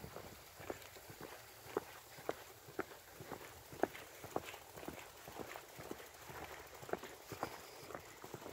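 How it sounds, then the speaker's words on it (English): Boots clomping on a walk around an old state school grounds on a windy day: a steady, evenly spaced series of footfalls, fairly close but soft, over a constant windy hiss. "boots clomping in this video"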